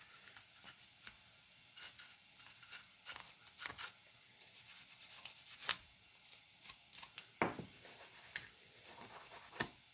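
Brisk scrubbing and rubbing on Sig Sauer P220R pistol parts during cleaning, quiet close scratchy strokes in irregular bursts with small clicks, no voices.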